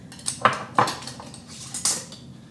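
Glass canning jars of pulled pork in BBQ sauce, regular-mouth pints and quarts, set down into a canner: three distinct clinking glass knocks spaced about half a second apart, close and fairly loud, with no talking.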